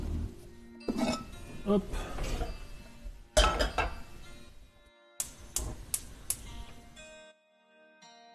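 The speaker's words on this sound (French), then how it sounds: "On va sortir une petite poêle." A small frying pan is pulled out of a kitchen cupboard, knocking against other pans and dishes with a series of sharp metallic clinks and clatters; a voice speaks briefly.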